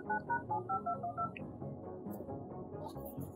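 A Samsung phone sounds a quick run of about eight touch-tone dialing beeps, evenly spaced and close, followed by quieter handling noise with no speech.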